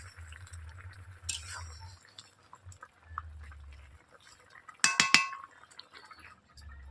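A spatula stirs rohu fish curry (tel jhal) in a pan after chopped coriander goes in, giving a couple of sharp metallic clinks and scrapes over a quiet low hum.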